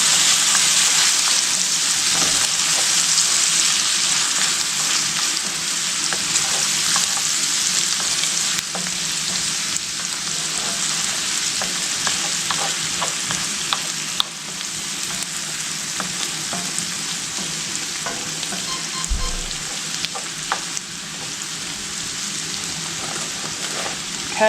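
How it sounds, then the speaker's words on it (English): Garlic and potatoes fry in a pan with a dense, continuous sizzle and crackle, loud and close, steady throughout with occasional soft stirring knocks. "so add in your garlic. And let that cook just a minute."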